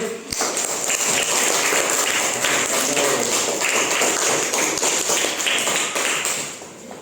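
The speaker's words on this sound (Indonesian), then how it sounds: "Tepuk tangan untuk Rio" A classroom of students claps for a classmate in a sustained, dense patter of many hands, steady throughout and then tapering off at the end, with no talk.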